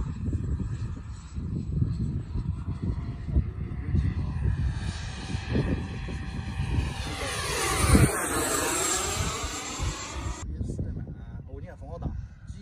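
An airplane's engine drones steadily while flying through strong wind that rocks the wings; the roar swells and its pitch rises and falls, with voices talking over it.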